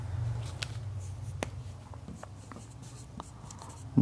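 Chalk or marker strokes on a board during a surface chemistry lecture: a series of short, scratchy taps and scrapes at an uneven pace, fairly quiet over a low room hum, with no talking.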